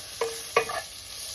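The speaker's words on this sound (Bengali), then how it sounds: "সেদ্ধ হয়ে গেছে দেখতে পাচ্ছেন, এটা একটু ভাজা করে নেবো" Boiled vegetables and egg are stirred in a frying pan, with two quick metallic scraping clinks over a faint, steady sizzle and no talking.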